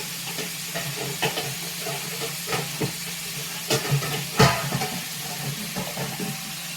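Ground hamburger meat browns in a pan for hamburger gravy, a constant close sizzle and hiss broken by irregular scraping strokes and clacks as a utensil stirs and breaks up the meat.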